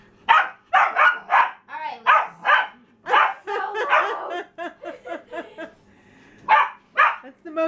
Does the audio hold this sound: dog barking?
yes